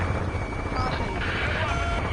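Helicopter in the Ace Combat 7 video game, a steady dense rotor and engine roar that stays loud throughout, mixed with radio chatter and other battle noise.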